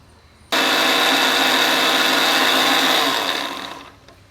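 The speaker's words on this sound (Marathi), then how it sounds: "आता हे मिक्सरला फिरून घ्यायचंय" A mixer grinder whirs at full power, blending pineapple with milk and sugar into a milkshake; the loud motor starts abruptly, holds a steady roar for about three seconds, then winds down and fades out.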